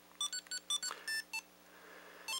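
A Super Mario Bros. Game & Watch handheld gives a string of short electronic beeps as its game button is pressed, about eight quick tones in an uneven rhythm, then a final beep after a pause, close and clear.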